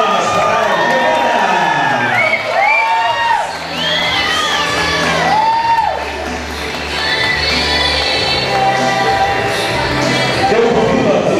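Guests at a 15th birthday party cheer, whoop and shout loudly, with children's high voices prominent and a lively crowd roar running continuously throughout; clapping is hard to pick out beneath the cheering.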